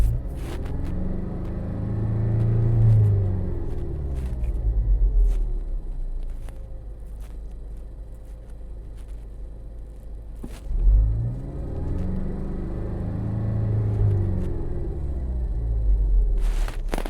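A Ford Focus ST engine running after a sensor relearn during a restoration, a steady low rumble with two swelling rev surges and intermittent clicks, heard close with no talking.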